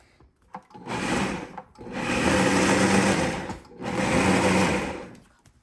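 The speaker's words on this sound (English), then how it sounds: "So I'm going to run our blender on the pulse mode." Blender on pulse mode grinding soaked lentils into a thick, smooth paste for dahi vada, running in two loud whirring bursts of about two seconds each with a short pause between.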